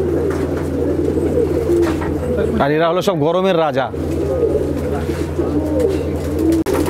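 Andhra breed pigeons coo steadily in a large loft in West Bengal, a low continuous murmur running beneath a voice speaking close by throughout.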